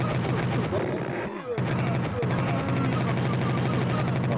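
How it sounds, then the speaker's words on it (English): Gunfire and grenade blasts from the Amiga zombie shooter Zombie Apocalypse, played on MiSTer FPGA, as a dense, continuous rattle of retro game effects with a brief dip and a descending swoop midway. "nice new grenade helps with that though"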